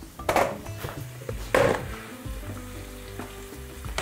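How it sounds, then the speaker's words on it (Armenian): Chopped onions sizzle and caramelize in a hot pan for a Thai-style chicken breast dish: a steady close crackling fry with a couple of louder clatters from stirring utensils against the pan. "Սոխը թող կարամելացվի, կարմրի"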